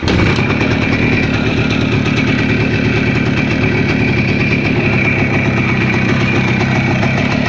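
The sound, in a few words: cold motor engine idling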